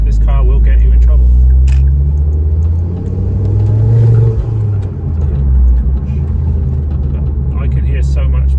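A Ford Focus ST225 on the move gives a deep, steady engine rumble with road roar and whooshing wind noise inside the cabin, while someone talks over it.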